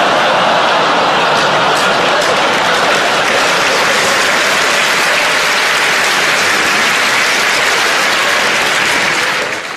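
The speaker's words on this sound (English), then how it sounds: "if that joke's getting a round of applause, I'm out." Comedy club audience breaking into sustained, loud applause after a dark joke from a stand-up comedian, a dense wash of clapping holding steady for nearly ten seconds before easing slightly at the end.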